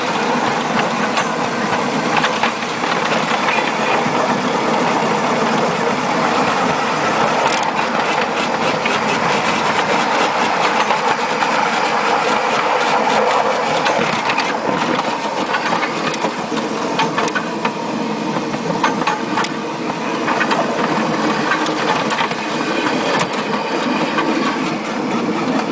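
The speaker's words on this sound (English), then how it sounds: "ultimate backyard railway." A ride-on backyard railway train runs steadily along its track, a continuous loud rolling rumble with rapid clickety-clack from the wheels, close by and without any talk.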